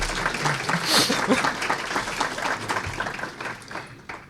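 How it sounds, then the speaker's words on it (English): Audience applause at a talk, steady moderate clapping from a crowd that carries on throughout, with some chuckles and a few voices underneath. "he deserves a round of applause"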